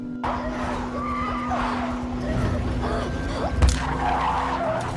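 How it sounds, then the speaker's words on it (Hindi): Tires skid and squeal as a car swerves sharply in the film Hereditary, a sustained screech close and loud with a brief thud near the end, no speech. "पीटर ने गाड़ी को साइड में मोड़ा"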